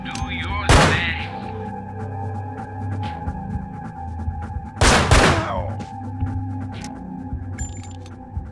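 Two loud, sharp gunshots in the stealth game Manhunt, spaced a few seconds apart over a low ambient drone and hum, with someone speaking between them.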